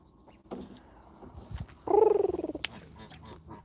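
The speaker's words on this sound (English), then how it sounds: "These are my Canada geese here." Pet Canada geese make a short burst of rapid, rhythmic honking calls at close range, preceded by a few soft clucks and rustles in a quiet setting.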